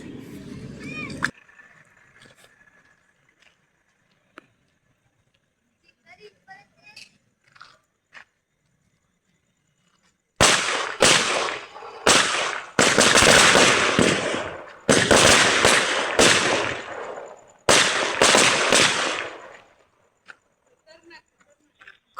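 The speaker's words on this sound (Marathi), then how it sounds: "खूप चांगल्या प्रकारे वाजतायत ते फटाके" A string of firecrackers tested before Diwali erupts in loud, rapid crackling bursts, several long rattling volleys close by, after a quieter stretch with a few scattered pops and voices.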